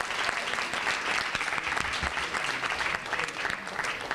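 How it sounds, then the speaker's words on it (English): An audience at a conference luncheon claps in a dense, steady round of applause, loud and continuous throughout, with no other sound standing out. "Let's give her one more round of applause, please."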